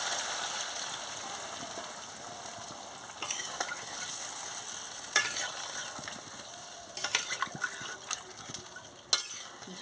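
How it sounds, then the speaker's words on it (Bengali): Water goes into a frying goat meat curry, with a steady crackling sizzle up close and bursts of clatter and stirring that grow busier toward the end. "এবার জল দিয়ে দিচ্ছি"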